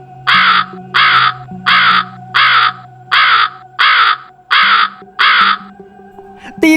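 A crow caws eight times in a slow, evenly spaced series, loud and close, as a sound effect in a horror story, with a low drone underneath.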